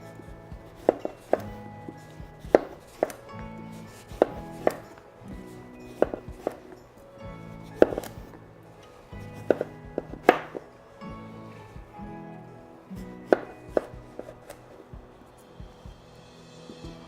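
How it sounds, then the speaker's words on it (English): A knife cuts delicata squash into thick rings on a cutting board, each slice ending in a sharp thunk. The chops come at an irregular, unhurried pace, close and clear, with no talk. "I'm just gonna slice this into some thick rings."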